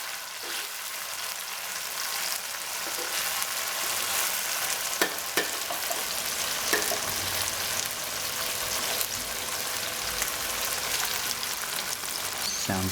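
Chilies, garlic and ginger stir-fry for mapo tofu, giving a steady, close sizzle and crackle in hot oil with occasional scraping knocks from the stirring.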